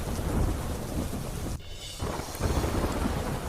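Heavy monsoon rain pours steadily during a storm in Kutch, Gujarat, near Lakhpat and Abdasa, with a loud, dense roar of rainfall and rumbling thunder, briefly dipping before surging again.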